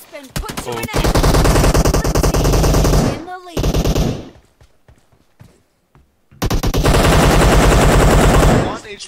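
Rapid, loud automatic gunfire in a team deathmatch video game, in long sustained bursts separated by a quieter stretch with scattered single shots, including shotgun fire.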